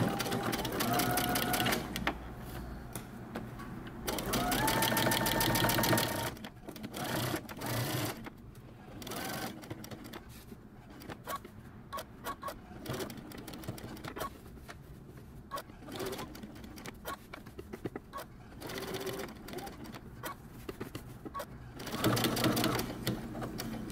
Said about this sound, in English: we're gonna come down and stitch across our stitching line